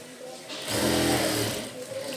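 Sewing machine stitching a baby blouse: a close, steady motor whir that rises into a louder sustained run in the middle, then eases off.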